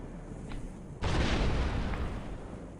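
A proton grenade detonates in the online game SWG: Restoration, a sudden loud blast that breaks in after a quiet lead-in and then rumbles off as a long, broad roar, with no voices.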